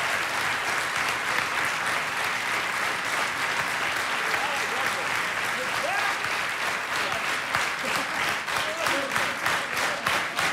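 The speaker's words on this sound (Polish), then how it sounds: "Brawa dla artystów." Steady applause from a large audience fills the whole stretch, dense clapping at an even level with no pauses.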